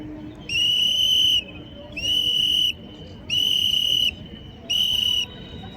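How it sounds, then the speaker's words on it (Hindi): A police drill whistle sounds the air-raid signal as four loud, shrill blasts, each about a second long, separated by brief pauses over a low background murmur. "अब हवाई हमला, लंबी सीटी लगातार।"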